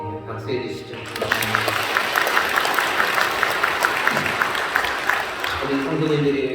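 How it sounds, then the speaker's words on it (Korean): A church congregation at a Sunday worship service breaks into sustained applause lasting several seconds, dense clapping filling the room, with a voice speaking just before it and again as it fades. "네, 박수해 주시죠."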